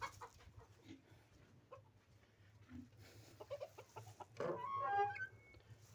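Chickens cluck softly nearby, scattered calls and short squawks, with a brief burst of louder fowl noise toward the end.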